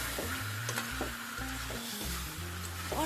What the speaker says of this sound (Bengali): মাংসটা আমি দুই মিনিট ধরে তো ভেজে নিয়েছি